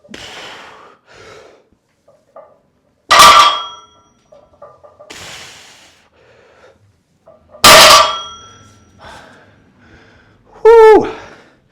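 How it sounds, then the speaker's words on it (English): Metal weight plates clang sharply three times as a 170 kg deadlift is set down, each crash loud and ringing, with heavy breathing, gasps and small knocks in between. "Sounds cool with the metal plates."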